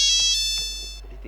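A mobile phone rings with a bright, steady electronic tone that sounds close and clear, then cuts off after about a second and leaves a faint low hum.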